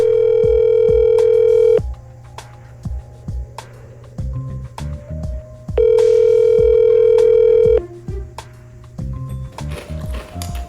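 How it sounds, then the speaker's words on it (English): A telephone dial tone sounds loudly in two long steady stretches, each followed by a burst of quick keypad tones as a number is dialed, close and with no talking. "Better call Bruce about this."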